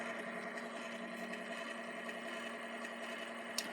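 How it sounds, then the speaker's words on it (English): Bevel gear motor of a Victor M phonograph lowered into playing position, giving a steady close mechanical whir with a faint ratcheting texture and one small click near the end. "with the motor down in the playing position, it makes a noticeable ratcheting action"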